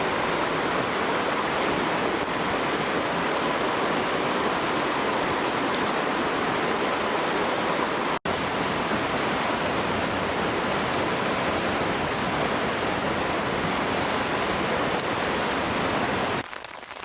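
A small waterfall in Skaftafell National Park, Iceland, roars as a steady, loud, broadband rush of falling water, constant throughout with no voices, recorded close on a rainy day.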